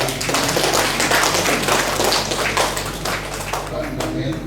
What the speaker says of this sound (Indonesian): Berikan tepuk tangan karena ini juga pertama kali.